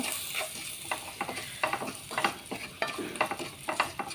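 Turmeric and salt stirred through a hot frying pan, a steady close sizzle broken by repeated scraping strokes of the spoon, with no one talking.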